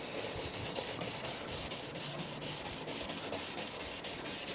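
A badly clouded headlight on a 2010 Fiat 500 Lounge is polished by hand in quick rhythmic rubbing strokes, a close scratchy swish repeating steadily, with no voices.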